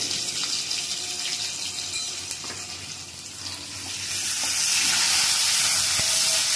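Asafoetida tempering sizzles in hot oil in a pan while a green chilli and drumstick leaf vegetable dish is prepared, a steady broadband frying hiss that swells louder toward the end, with no talk.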